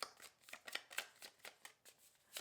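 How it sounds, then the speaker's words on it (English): A deck of tarot cards being shuffled, with quick, rhythmic riffling bursts repeating steadily and close up, without any talking. "One more shuffle."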